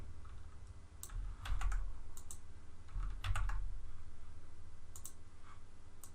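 A computer keyboard clatters under quick bursts of typing as a password is entered, with clusters of sharp close key clicks separated by brief pauses over a faint steady room hum.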